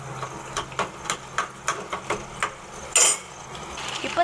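Tomatoes being stirred in a pan for tomato chutney, a steady series of light spoon scrapes and taps against the pan over a low hum, one louder sizzling clatter near the end.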